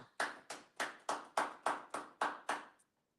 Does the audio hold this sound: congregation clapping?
yes